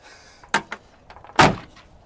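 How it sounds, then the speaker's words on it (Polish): A door opens during a road trip around Australia, with a soft click followed by two sharp knocks and a louder thud, each brief against a quiet background. "Otwieramy drzwi."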